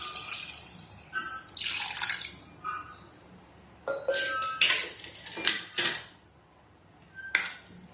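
Water splashes and trickles into a metal pot amid clinks of metal and cookware, in several short bursts with brief pauses, as water is added to rice for quail biryani.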